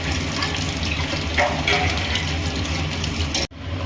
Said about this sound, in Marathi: पाणी टाकून जरा हलवावं लागेल मिक्स